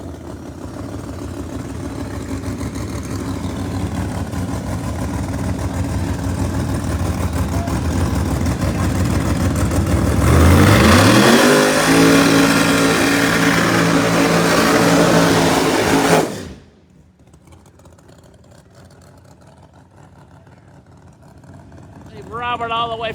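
A ProMod Mustang drag car at the Yellow Bullet Nationals roars loudly for about sixteen seconds, its engine note building to a harsh full-power scream, then cuts off abruptly, leaving quiet crowd-like background with an announcer's voice talking throughout.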